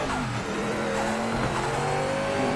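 Mercedes-Benz Sauber C9 race car engine in the video game Project Motor Racing, a steady loud drone with shifting pitch as the car runs through a lap, with faint tire noise.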